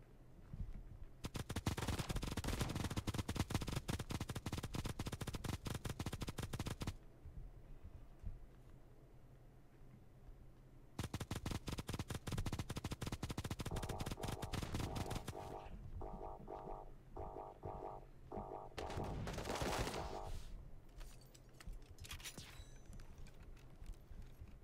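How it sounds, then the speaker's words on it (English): Sustained bursts of rapid automatic gunfire in the mobile shooter game Bullet Echo, two long volleys separated by a pause, followed by shorter clustered shots and mechanical clicks. "Shots."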